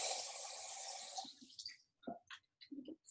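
Raspberries are rinsed under running tap water for a smoothie bowl: a steady hiss of flowing water for about a second, then soft wet handling noises and small splashes.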